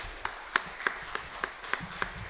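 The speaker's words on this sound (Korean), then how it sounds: "우리 다시 한번 박수 부탁합니다." Scattered, sparse handclaps from a church congregation during a Sunday worship service, about seven distinct claps spaced unevenly over a couple of seconds, moderately close and without speech.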